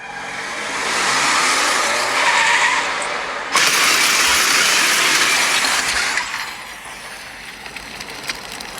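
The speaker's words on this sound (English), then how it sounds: "This is another car coming from the port." In Final Fantasy XIV, a car coming from the port skids and crashes: a long loud tire screech, then a sudden heavy impact and roaring noise that slowly fades into a lower rumble, with no talk over it.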